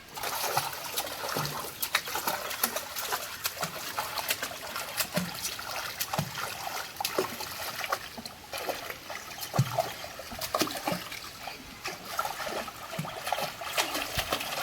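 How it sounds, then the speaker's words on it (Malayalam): Steady patter of rain with scattered drips and trickling water, fairly soft and continuous, no voices. "നല്ല മഴ, നല്ല രസമായിട്ടുണ്ടല്ലേ?"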